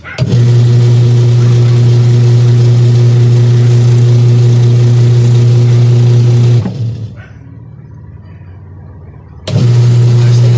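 A washing machine under repair runs with a loud, steady motor hum, stops abruptly for a few seconds of near quiet, then starts up again at the same strong level.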